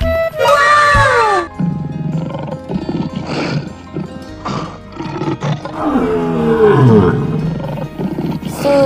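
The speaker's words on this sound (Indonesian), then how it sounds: "Wow, ini singa teman-teman." Lion roaring in a children's animal video, loud, close roars and groaning grunts over a steady low rumble, with a high, shrill whinny-like cry at the start.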